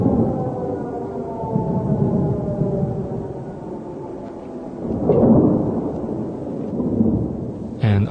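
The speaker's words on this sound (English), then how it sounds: "Then the explosions start." Deep, distant explosions roll through the night in wartime Kyiv, with low rumbles swelling midway over a faint, wailing tone in the background.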